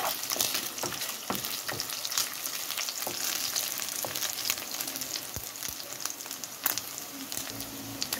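Chunks of meat kavurma with vegetables sizzle and bubble steadily in soda in a hot pan, a dense crackling fry with occasional stirring knocks, close and unbroken throughout.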